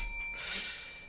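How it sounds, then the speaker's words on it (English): A single bell chime used as a failure sound effect, ringing briefly and fairly softly with a thin, bright tone that fades out over about a second, with no talking. "Failure bell."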